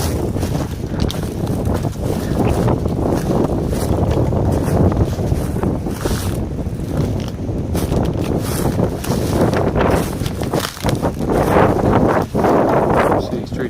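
Steady wind blows and buffets the microphone outdoors where trails are being cut for deer food plots, a continuous rushing roar with gusty swells throughout.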